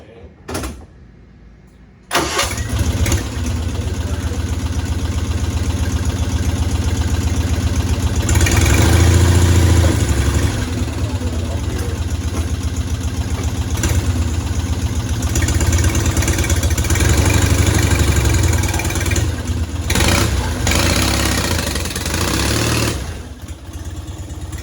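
Homemade replica Model T truck engine idling steadily at close range, a continuous low rumble running for most of the take after a brief quiet start, with a thump like a door near the beginning.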